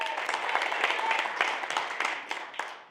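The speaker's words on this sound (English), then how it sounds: "Give it up, hands up. Clap for her." An audience at a sales seminar claps for a participant, a brief burst of brisk, dense clapping from a crowd in a room that tapers off after about three seconds.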